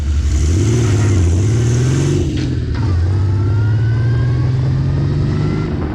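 A 1930s Wolseley Hornet race car engine roars loudly up close as it pulls away, revving up through a gear change partway through before the note climbs steadily again.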